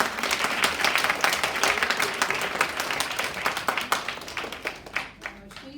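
A conference audience at a National Handloom Day event claps for a volunteer, the applause close and lively with distinct individual claps, fading and thinning out toward the end.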